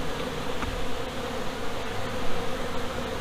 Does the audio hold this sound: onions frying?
no